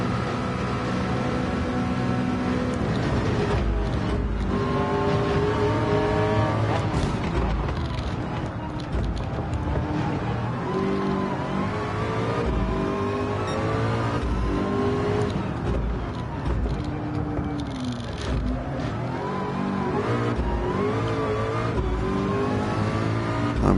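A race car engine in a Le Mans endurance racing game played in PSVR2 drones loudly and continuously, its pitch climbing and falling repeatedly through gear changes and revs, with other cars faintly audible around it.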